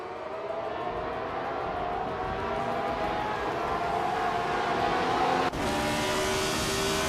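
Race cars roaring together at the start of a race at Bathurst in a racing video game, a dense sustained engine drone rising steadily, with a brief sharp cut near the end and no talking.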